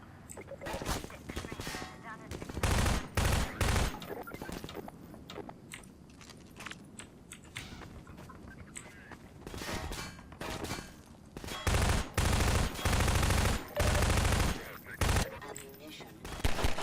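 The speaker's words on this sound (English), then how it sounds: "you can shoot them from quite a long distance" Gunfire in the video game ChasmVille while shooting enemies from long range, rapid loud bursts of shots in clustered volleys separated by quieter stretches, with someone talking between them.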